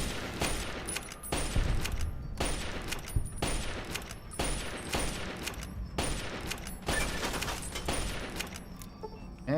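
Gunfire in the Fallout video game (A Tale of Two Wastelands mod), with repeated sharp shots in an uneven rhythm of about a dozen reports over several seconds, close and fairly loud.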